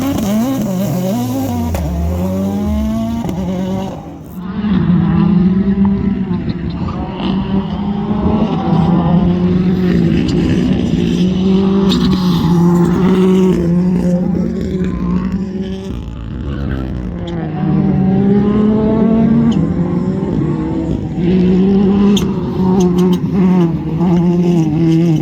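Rally cars run flat out on a winter series stage at Shackleton, Ballykelly, engines screaming loud and close with rising and falling revs as they pass and shift, a brief dip before the roar returns.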